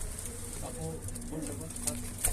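Pigeons coo in low, repeated throaty murmurs inside a loft, steady and close, with a voice speaking faintly alongside.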